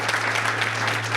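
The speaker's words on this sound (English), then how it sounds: "I want to give a round of applause to our panel." Audience applause for a panel at a Canadian Club of Ottawa event, a steady dense wash of clapping through the whole short stretch, with a low electrical hum underneath.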